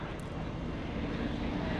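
A two-seat aerobatic airplane flown by Gary Ward at the 2016 Greenwood Lake Airshow; a faint, steady engine drone heard from a distance, continuous and low, with no speech over it.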